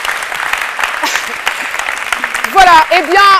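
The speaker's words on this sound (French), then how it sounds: "Merci beaucoup, on l'applaudit très fort." A TV studio audience applauds in a burst of clapping while a presenter speaks over it, and a sung or tonal voice comes in near the end.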